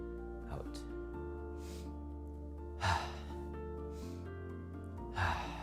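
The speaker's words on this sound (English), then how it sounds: "breathing in, breathing out" Slow breaths in and out during a gentle tai chi pump exercise, two clear airy breaths and fainter ones rising over soft, sustained background music.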